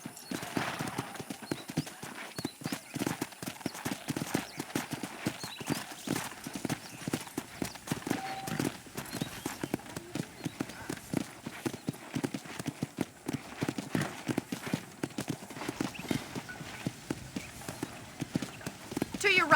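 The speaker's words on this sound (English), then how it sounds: "let's see if you can still ride a horse" A horse being ridden in Red Dead Redemption clip-clops in a steady, fast rhythm of hoofbeats that runs throughout, with a voice talking over it.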